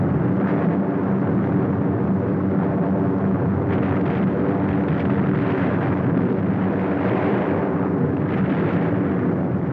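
Bombs exploding on a target during a WWII bombing raid, a dense continuous roar of distant blasts and rumbling, loud and unbroken, with no voices.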